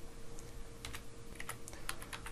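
A hex colour code being typed on a computer keyboard: light, close key clicks in quick uneven bursts over a faint background hum.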